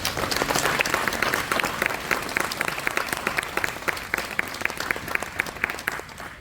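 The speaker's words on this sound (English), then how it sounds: "Let's have a round of applause for Doyle McCormick." An audience at a ceremony for a restored Brooklyn railroad turntable breaks into sustained applause, steady dense clapping that carries on for several seconds without talk.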